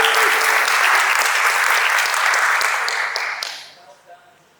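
Audience applause for a presenter leaving the stage at an investor summit demo day: loud, dense clapping that holds steady for about three seconds, then thins out and fades to a few scattered claps.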